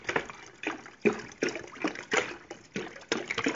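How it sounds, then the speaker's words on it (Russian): Water splashes and gurgles into a kettle filled to the brim in short uneven bursts, close by, with brief pauses between pours. "Заполняем емкость чайника до краев водой"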